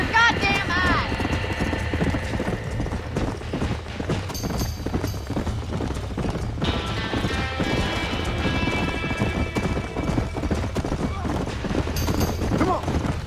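Horses trapped in a burning barn in the Red Dead Redemption video game, hooves clattering and stamping continuously with high whinnies and neighs breaking through a dense roar, while people talk over the commotion.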